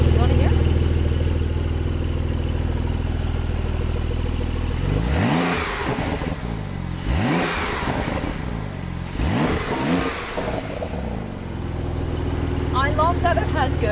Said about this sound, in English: I love that it gurgles and pops